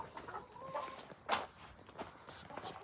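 Chickens at a grandmother's coop clucking softly in short, scattered calls, with a louder burst in the middle and faint shuffling steps around them, fairly quiet and without talk.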